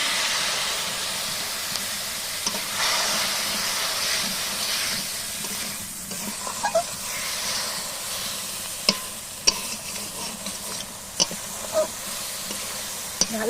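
Kuche fish (eel) simmers and sizzles in a pan with a little water, giving a steady hissing bubble close up, while a spatula adds occasional scraping taps as it stirs.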